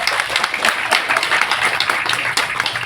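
An audience at a Tamil film audio launch event claps in sustained, dense applause, steady and fairly loud throughout without pause, with no speech standing out over the clapping.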